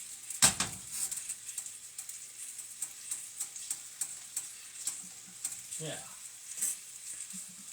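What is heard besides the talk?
chicken browning and sizzling in a pan for Tuscan chicken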